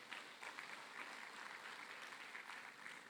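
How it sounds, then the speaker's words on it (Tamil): Faint, steady applause from an audience at a Thirumurai conference during a welcome speech, a dense patter of clapping holding evenly throughout with no voices over it. "அவருக்கு ஒரு பெரிய கைத்தட்டு கொடுக்கணும் தான்ஸ்ரீ அவர்களுக்கு."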